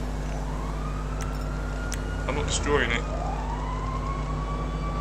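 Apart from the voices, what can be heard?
fire brigade sirens in the video game GTA Online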